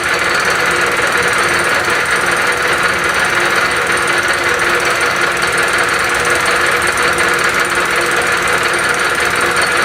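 A fly cutter making a cleanup pass across a wood workpiece on a milling machine, giving a loud, continuous, harsh rapid chattering roar that holds steady throughout, close up and alone.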